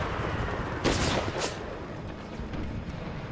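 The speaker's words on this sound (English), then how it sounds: "Here we got some more howitzer shots coming in. Exploding overhead." Howitzer shells burst overhead in a Civil War strategy game with British intervention, two sharp broadband blasts close together over a steady rumbling battle background.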